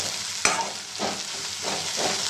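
Chillies fry in hot oil with a close, continuous sizzle, punctuated by a sharp knock and a few rhythmic scraping stirs.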